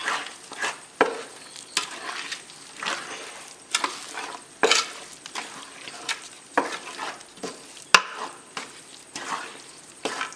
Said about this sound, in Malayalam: ഇതൊന്ന് ഇളക്കിയതിന് ശേഷം നമുക്ക് അവൽ ചേർത്ത് വഴറ്റി കൊടുക്കാം